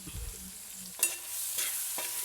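Chicken curry ingredients sizzle in an indalium pot as a spoon scrapes and stirs, producing a few distinct scraping strokes over a quiet, steady frying hiss.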